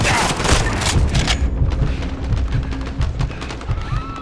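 Rapid gunfire from a Call of Duty: Modern Warfare firefight at Piccadilly Circus, London, with dense bursts and booming shots up front that thin into scattered, sharper cracks, loud and close, with faint voices mixed in.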